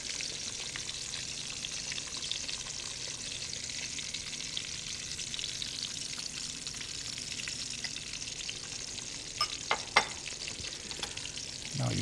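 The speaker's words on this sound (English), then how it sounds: "that's actually a good time to add your onions. And a little bit of your garlic." Onions and garlic fry in a pan alongside salmon with a low, continuous sizzle, joined by a few sharp clicks and stirring taps toward the end.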